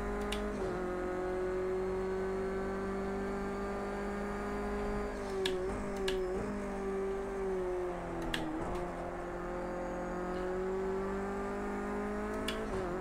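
A race car in the video game Project Cars 2 drives steadily to warm its tyres, a smooth sustained engine drone holding a near-constant pitch with small dips at gear changes and faint clicks, no voices.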